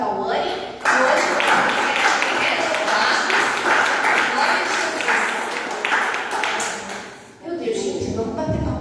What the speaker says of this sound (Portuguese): eu quero que vocês batam o maior salve de palmas ao Senhor pela vida da pastora Cauane